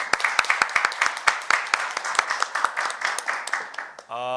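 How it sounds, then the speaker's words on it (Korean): Sparse clapping from a small audience at a debate forum on internet policy, individual claps distinct and uneven, fading out before a voice begins speaking at the end. "우리 의원님 박수 소리가 제일 큰 거 보니까 제가 오늘 제일 환영받는 사람인 것 같습니다"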